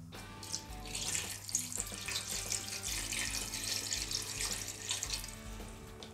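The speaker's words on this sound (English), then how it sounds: "I'm now going to add some water." A steady stream of water runs from a tap, splashing continuously into a metal pot nearby.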